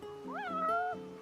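A single cat in the Final Fantasy XV video game gives one clear, rising and falling meow lasting about a second, close and distinct.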